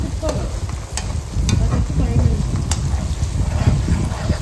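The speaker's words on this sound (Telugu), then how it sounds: "ఇలాగా బాగా కలుపుకుంటూ అల్లం వెల్లుల్లి పేస్ట్ అంతా కూడా బాగా ఫ్రై చేసుకుందాం" Ginger garlic paste fries in a pan for homemade chicken pickle, a steady sizzle with scraping stir strokes throughout, close and moderately loud.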